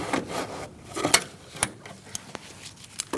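An oil filter wrench gripping and twisting a plastic headlight bulb cover on a 2016-2019 Chevrolet Cruze, giving short scraping, creaking rubs and a few sharp clicks in close, quiet bursts.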